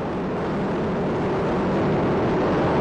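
Space Shuttle Endeavour lifting off on mission STS-126 from Kennedy Space Center, a continuous loud broadband roar that holds steady and slowly swells, with no voices over it.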